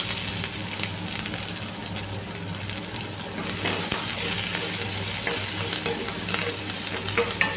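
Finely chopped small shallots sautéing with curry leaves in a pan for a Kerala-style chickpea curry, an even crackling sizzle with soft stirring and occasional sharper pops, moderate and close.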